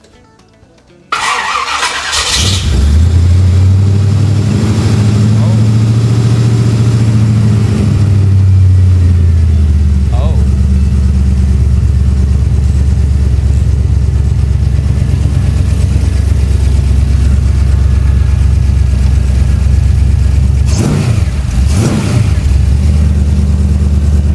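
A 302 V8 car engine cranks and catches, revs up loudly, then settles into a deep rumbling idle, with a couple more sharp revs near the end.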